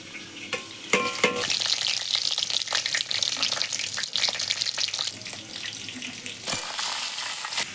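Cumin seeds, bay leaf and dry red chilies hitting hot oil and ghee for a Bengali vegetarian tempering, a loud, bright crackling sizzle with a sharp burst near the end, no talking.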